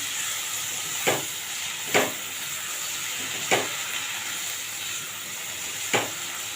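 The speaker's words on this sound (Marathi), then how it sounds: "आता जी मिरची आपण चिरून ठेवली होती ती आपण याच्यामध्ये घालणार आहोत आता हे मिक्स करून घेऊया तेलावर परतून घेऊया" Chopped green chilies sauté in hot oil over low heat, giving a steady, even sizzling hiss broken by four sharp taps of a spoon against the pan at regular intervals.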